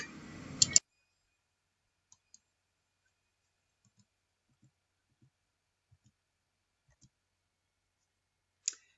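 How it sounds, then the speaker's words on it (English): A mouse click on a Check My Spelling button in a spelling game: a short, sharp pair of clicks, followed much later by a faint tiny tick and a final crisp click in near silence. "when I click the Check My Spelling button"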